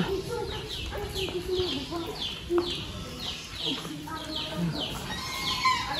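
Geese, turkeys and chickens on a farm make repeated clucks and honking calls at mid distance, with a steady outdoor background and occasional louder calls standing out.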